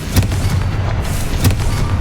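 Confringo spell blasts in Hogwarts Legacy land as dull booming explosions, two sharp bursts over a rumbling, continuous low roar, loud and close with no talk.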